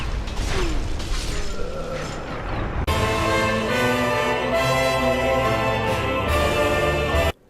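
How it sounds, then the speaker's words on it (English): A ladder is kicked down in Dark Souls, a loud mechanical clatter and creak of gears and a ratcheting catch, followed by a sustained sliding rumble of the ladder dropping into place, fairly close and alone. "Kicking down the ladder."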